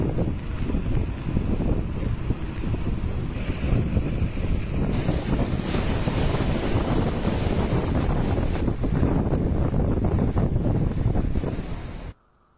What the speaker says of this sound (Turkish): Ama rüzgar da devam ediyor gene de. Durmuyor.